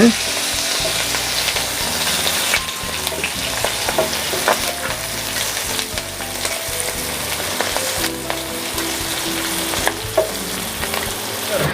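Pindang fish frying in hot oil in a home kitchen for an East Javanese pindang bumbu rujak, a loud, steady close-up sizzle and crackle of oil with occasional stirring scrapes throughout.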